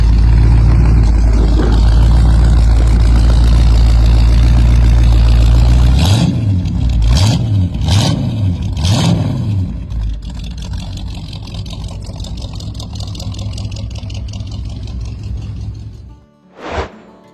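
A 1980 Oldsmobile wagon pro street build's engine rumbles loudly at idle, then four sharp throttle blips rise and fall in quick succession before settling back to a lower idle, with a brief burst near the end.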